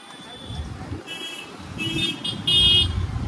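Cars on a congested Sunday road outside Mumbai sound repeated short horn toots over a low traffic rumble, with people talking nearby.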